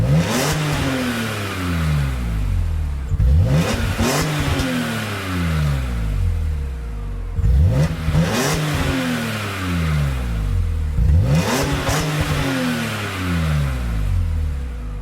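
A BMW M3 with an inline six-cylinder engine revs repeatedly. The engine note sweeps up and falls back in several loud, close bursts that carry a steady throaty roar.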